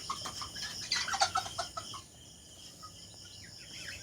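Roosters and hens on a farm cluck in a busy cluster of short, sharp calls during the first two seconds, then fade to quieter scattered clucks over steady background noise.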